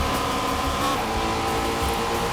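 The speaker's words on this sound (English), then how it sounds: "Yep, this has a GT350 engine, so it sounds freaking amazing." A van fitted with a GT350 engine races in the video game Forza Horizon 5. The engine gives a loud, continuous, sustained high-revving roar with no talk.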